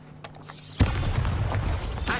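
Bombarda blast spell cast in the Hogwarts Legacy video game: a sudden loud impact bursts in partway through, followed by a rumbling, rattling blast tail that lasts to the end of the short clip, with no talking.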